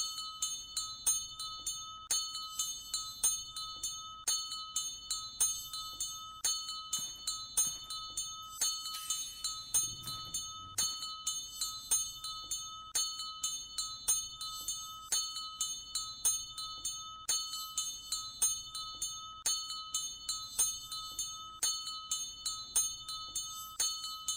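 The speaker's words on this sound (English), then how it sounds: "Oh, that freaking bell." Repeated bell ringing from a bell in The Quinfall, a video game: steady, regular strikes with a sustained metallic ring, fairly close and persistent throughout, with no talk over it.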